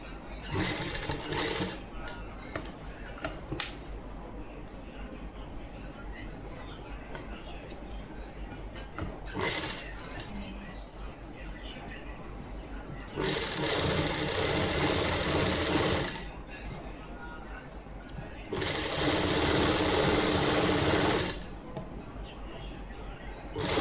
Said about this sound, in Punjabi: ਆਪਾਂ ਇਦਾਂ ਦੂਸਰੇ ਚਾਕ ਤੇ ਵੀ ਇਦਾਂ ਹੀ ਘੁਮਾ ਕੇ ਸਲਾਈ ਲੈ ਜਾਾਂਗੇ